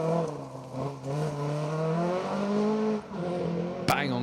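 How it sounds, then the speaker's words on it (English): A rally car on a North Wales forest stage passes with a steady, rising engine drone and a slight misfire, fairly loud and near, with a brief sharp crack near the end. "It sounds like the car's got a slight misfire, doesn't it?"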